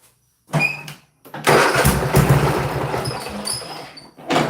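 A Husqvarna LG2654 lawn tractor engine cranks in brief bursts, then fires and runs with a loud, close, rough idle before a short pause and another burst.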